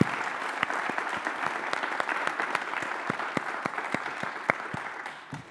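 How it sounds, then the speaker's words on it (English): Steady applause from an audience at a school division convocation in Roanoke, honoring city leaders, with dense clapping that holds level throughout and tapers slightly at the very end. "Let's give our city leaders a big round of applause."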